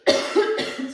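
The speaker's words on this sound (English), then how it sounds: "I'm going to cough." A single adult cough, close and fairly loud, made of two or three rough bursts within about a second, with no talk over it.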